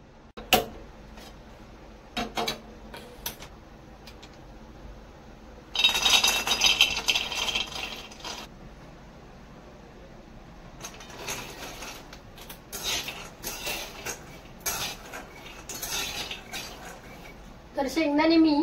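About two cups of peanuts roast over medium heat in a pan, rattling and clattering in intermittent bursts as they are tossed, with quieter gaps between.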